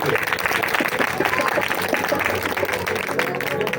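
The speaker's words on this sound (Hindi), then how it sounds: "एक मरतबा जोरदार तालियां बजाएं खुदा के कलाम के लिए" A church congregation applauds loudly at a worship service, with dense sustained clapping filling the space throughout and voices mixed in under it.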